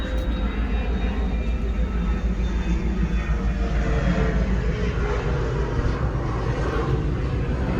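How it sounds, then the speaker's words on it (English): A fixed-wing airplane passes overhead close to Jacksonville International Airport, a steady broadband engine roar that fills the whole clip at fairly loud level, with no voices. "You can hear a plane going overhead."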